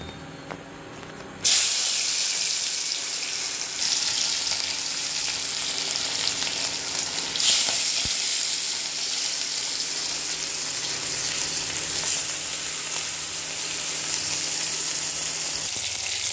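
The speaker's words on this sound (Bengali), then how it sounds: "এবার আমি মাছটা ভেজে নেব।" Fish frying in oil in a pan for a home-style fish curry makes a loud, continuous sizzle with crackling spatter that stays steady from start to finish, no talking.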